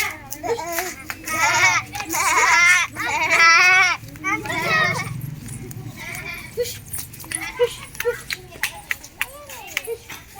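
Goat bleating in a cartoon story, several wavering bleats loud and close in the first half, followed by quieter scattered sounds and voices.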